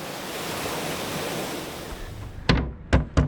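Ocean surf rushes as a broad, steady wash with wind noise while cruising at anchor, then three sharp, loud bursts of water break through near the end.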